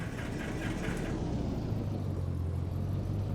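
A simulated aircraft engine starting and settling into a steady low rumble in the X-Plane flight simulator, with a constant droning hum and no speech over it.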